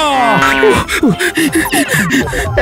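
A cartoonish cow moo rises and groans loudly up close, blending with a quick, animated voice overlapping the lowing.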